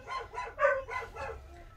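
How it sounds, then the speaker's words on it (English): Several dogs outdoors barking and howling at someone walking past, a run of overlapping, tonal yowls rising and falling in bursts, moderately loud and fairly close, with no talking over them. "There's definitely dogs outside."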